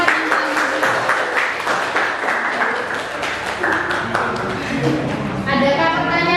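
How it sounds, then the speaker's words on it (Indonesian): A classroom audience claps for a student group after a presentation, steady, close, fairly loud applause with some voices mixed in. "Tepuk tangan buat kelompok 4 yang paling maju."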